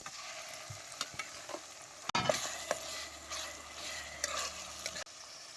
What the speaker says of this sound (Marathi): आता ही सौदा तेलात चांगला भाजून घे.